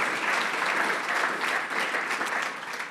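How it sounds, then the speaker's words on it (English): Steady, sustained audience applause fills a conference session hall, a dense even wash of many hands clapping at a constant level from start to finish with no voices. "Big round of applause, please"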